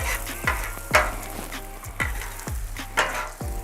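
Onions sizzle on a flat griddle in a steady frying hiss, broken by repeated scraping strokes of a spatula about every half second, close and fairly loud with no talking.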